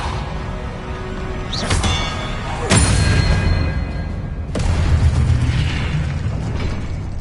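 Spell blasts and bursts from Depulso being cast in the video game Hogwarts Legacy, a few sharp whooshing pops over a steady rumbling game background, with no talking.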